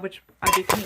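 A cat knocks dishes and cutlery together in a sudden, brief clatter of two quick bursts right after a short stretch of speech.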